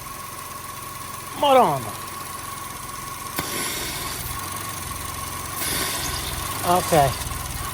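A Chevy Sonic or Cruze engine idling rough with a steady mechanical drone and an audible suction hiss, with a couple of short words spoken over it partway through.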